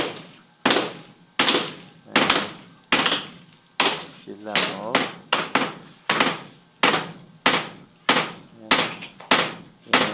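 Hammering at a construction site, a regular series of hard metallic strikes about one per second, loud and close, ringing briefly after each blow, with a short spoken remark in between.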